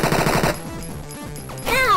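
Video game gunfire in I Want To Be Human, a rapid burst of shots at the start, a quieter stretch, then more firing and sharp effects near the end.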